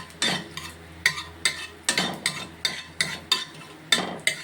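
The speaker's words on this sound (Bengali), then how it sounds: "এটা একটু ভাজা ভাজা করে নেব।" Panch phoron spices fry in a small amount of hot oil for a gadhal leaf curry, with about a dozen sharp, evenly spaced scrapes of a spoon stirring against the pan over a faint sizzle.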